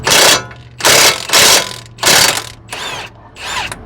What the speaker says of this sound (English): But yeah, use an impact gun.